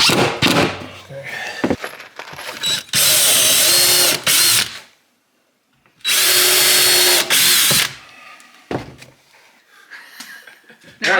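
A power drill drives a screw into a wooden Adirondack chair during a build. Two long, loud, close whirring bursts are separated by a short pause, with brief bits of talk around them.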